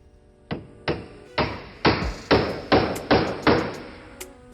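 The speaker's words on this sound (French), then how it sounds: "Il cloue des étrésillons pour éviter que les joues ne s'écartent pendant le coulage." A hammer drives nails into wooden braces on concrete formwork for a horizontal tie beam, landing eight sharp, evenly spaced blows that grow louder and denser, followed by a faint final tap.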